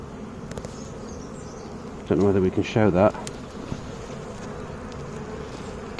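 Honeybees buzzing during a beehive inspection, a steady low hum running throughout while a person briefly speaks over it.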